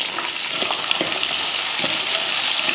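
Small onions, sliced big onion and curry leaves sauté in hot oil for a country-chicken curry, giving a steady, loud sizzle with faint scrapes of stirring scattered throughout and no talk.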